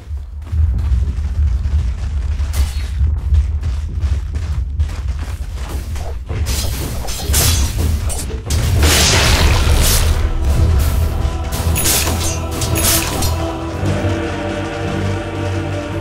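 Dense, booming explosions and crashing impacts from a Dota 2 tower under attack, loud and continuous, with layered game effects and a brighter burst of blasts midway.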